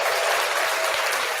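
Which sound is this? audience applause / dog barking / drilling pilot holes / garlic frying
audience applause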